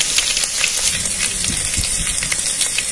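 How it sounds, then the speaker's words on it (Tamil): Crushed garlic hits a pan of frying okra in village-style cooking, a loud, continuous close sizzle and crackle of hot oil throughout. "கொஞ்சமா பூண்டு வந்து நசுக்கி வச்சிருக்கோம், அதையும் சேர்த்துக்கலாம்."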